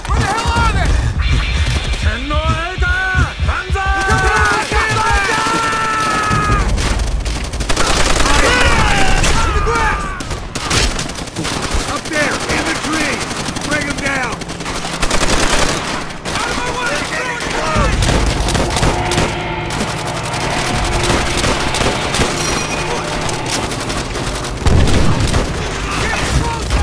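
Dense sniper and machine gun fire in the World War II shooter Call of Duty: World at War, loud booming shots and rapid bursts overlapping continuously, with shouted voices under the battle.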